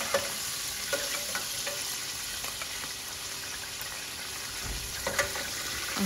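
Seekh kebabs fry in a pan with a steady, fairly loud sizzle and crackle, turned over now and then with occasional soft clicks, and no talking.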